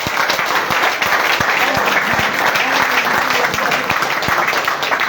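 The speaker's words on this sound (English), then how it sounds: "One applause for the chairman." An audience at a political gathering bursts into dense, sustained applause for the chairman, many hands clapping continuously and loudly with crowd noise underneath.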